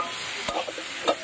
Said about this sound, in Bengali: গাটি কচুটা একদম ভালো করে কিন্তু সব মশলা দিয়ে কষিয়ে নিয়েছি।